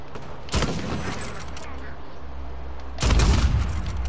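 Two loud bursts of rapid automatic gunfire from an Aegis rifle in an Uncharted 4 King of the Hill online match, the first near the half-second mark and a longer one near the end, with game ambience between.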